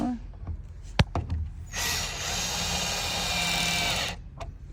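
A power drill drives screws for a standard tension anchor, giving one sustained whir of a couple of seconds that ends as it stalls. Quiet handling knocks come before and after it.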